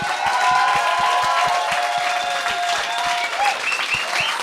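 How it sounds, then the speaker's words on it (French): Podcast audience applauding the co-host as he is introduced, a dense wash of clapping from a crowd, steady and fairly loud throughout, with a rhythmic low thumping beat running underneath. "j'aimerais qu'on donne une bonne main d'applaudissements à mon co-animateur. Applaudissez-le."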